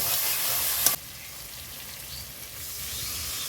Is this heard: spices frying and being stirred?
yes